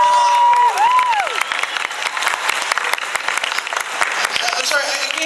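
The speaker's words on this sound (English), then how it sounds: "let's give a big round of applause" A convention audience at an Anime Boston 2013 voice actor roundtable applauds in a dense, steady burst of clapping with some cheers, while a voice speaks over the start.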